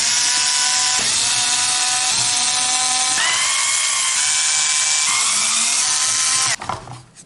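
Power drill grinding out rivets on a KTM Duke 790 motorcycle plate holder, a loud continuous whine with pitch shifting as the bit bites, cutting off abruptly near the end.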